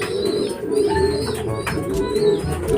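Racing pigeons coo repeatedly up close at their loft as they return from a training toss, making soft throaty calls with a few brief chirps mixed in.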